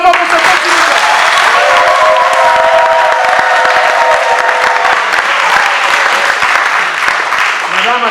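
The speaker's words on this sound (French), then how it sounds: "Et on applaudit très fort pour cet acte de mariage." A crowd applauding at a civil wedding ceremony in a town hall, dense sustained clapping that is loud and steady for several seconds, with voices mixed in underneath.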